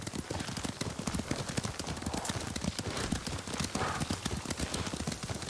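Horse hooves clip-clop steadily in a fast, rhythmic gallop during a ride in Ghost of Tsushima, with dense close hoofbeats filling the whole stretch.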